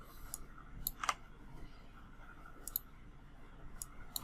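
A computer mouse clicks a few times while working in design software, faint crisp isolated clicks spread across a quiet background.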